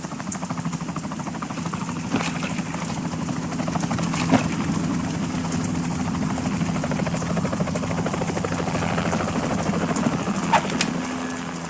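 A helicopter's steady rotor drone and engine whine fill the whole stretch in the video game Metal Gear Solid 2, with a few sharp clicks and thumps cutting through.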